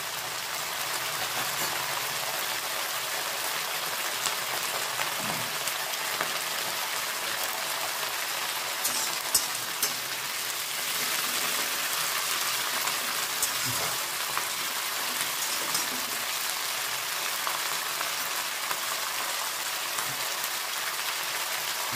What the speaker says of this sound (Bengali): আমি নিম পাতা কটা ভেজে নিই।